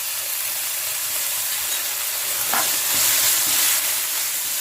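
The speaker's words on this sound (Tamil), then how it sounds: "இது அப்படியே லைட்டாக வதக்கிக்கலாம்" Cabbage and onion with chili sauce sauté in a pan, giving a steady broad sizzle with a few soft stirring scrapes midway, moderately near and without talk.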